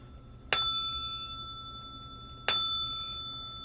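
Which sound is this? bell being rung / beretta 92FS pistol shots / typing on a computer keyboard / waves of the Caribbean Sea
bell being rung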